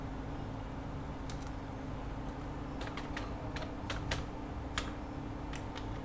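Code being typed on a computer keyboard, heard as scattered, uneven bursts of light key clicks over a steady low hum, with no voices.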